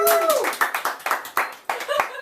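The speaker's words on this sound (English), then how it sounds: "Let's give him a round of applause." Studio audience clapping for a comedian at a stand-up show, a short burst of applause mixed with laughter and a voice talking over it.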